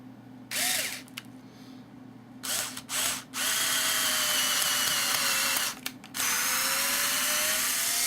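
A power drill drives Phillips head screws while building a Matt Chapman Eagle 580 aircraft, in several close, loud bursts of whirring that build to one long sustained run, with no talking.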